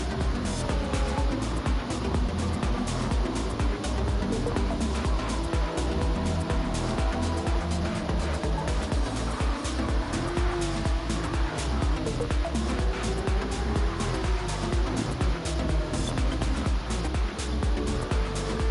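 Gr.3 race cars in Gran Turismo 7 on Grand Valley Highway roar continuously side by side, with dense, high-revving engines and occasional tire squeal filling the whole stretch.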